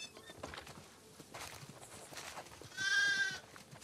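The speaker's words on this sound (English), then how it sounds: "Listen up, sheep." On a farm in The Last of Us Part II, a sheep lets out one clear, wavering bleat near the end, following soft footsteps and quiet shuffling.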